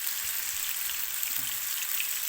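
Liver, tomatoes and onions fry in a pan for Alexandrian-style liver, giving a steady, dense sizzle and crackle close up with no voices.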